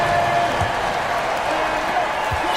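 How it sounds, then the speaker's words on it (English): Crowd applause for the Heat Youth Dance at a basketball game, a steady wash of clapping and cheering from a large arena audience that stays level throughout, with an announcer's voice over it. "Fans, please give a big round of applause for your Heat Youth Dance"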